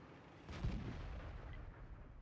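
Tank gun on an IS-6 heavy tank fires once in World of Tanks, a single booming report followed by a low rumbling tail, heard alone.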